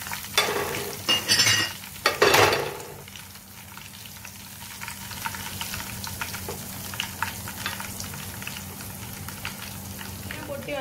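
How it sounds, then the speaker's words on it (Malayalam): Mustard seeds, curry leaves and dried chillies splutter in hot coconut oil, loud crackling bursts and stirring at first, then settling into a continuous close sizzle with scattered pops. "കറിവേപ്പില കടുക് ഇട്ട് പൊട്ടിക്കാം"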